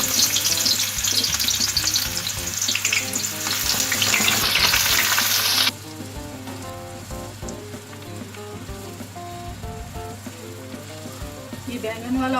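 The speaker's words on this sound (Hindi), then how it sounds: "ये ऑयल जिसमें हमने बैंगन फ्राई किए थे उसमें प्याज डाल दिए।" Onions are dropped into foamy oil left over from frying eggplant, bursting into a loud, dense sizzle that drops abruptly to a calmer, steady crackle with scattered pops, close by and free of talk.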